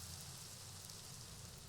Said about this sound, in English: Go away, rain.